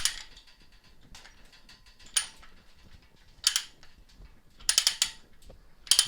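A trolley's ratchet lever is wound in short bursts, each a crisp metallic clicking of pawl on gear, close and fairly quiet with pauses between strokes.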